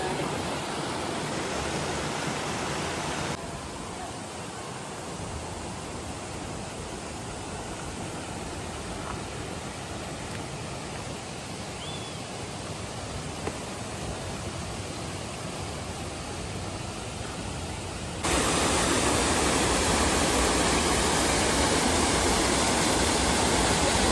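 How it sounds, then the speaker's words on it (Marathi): The Milky Bar waterfall flowing steadily, a loud, dense, continuous roar of falling water heard alone, growing louder toward the end. "पाण्याचा फ्लो आहे बऱ्यापैकी."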